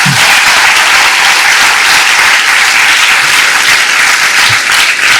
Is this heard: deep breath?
no